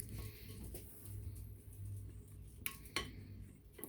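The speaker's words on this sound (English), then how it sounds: "You gotta scrape." A metal utensil scrapes and clinks against a nearly empty bowl in a home kitchen, with soft rubbing strokes and a couple of sharper clinks, close and fairly quiet.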